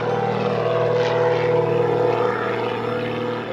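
Propeller airplane in flight, a loud steady engine drone with a constant buzzing tone, close and continuous with no talk.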